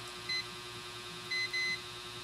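Short electronic beeps from a multimeter in continuity buzzer mode testing a shorted Asus X407UA laptop motherboard, one brief tone followed later by two slightly longer ones, clear over a low steady hum.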